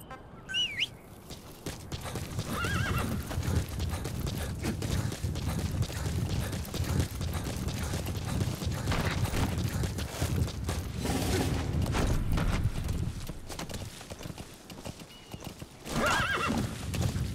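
D-Horse gallops through Metal Gear Solid V: The Phantom Pain, steady rapid clip-clop of hooves filling the scene, with a whinny near the start and another burst near the end, plus faint birdsong and distant gunfire.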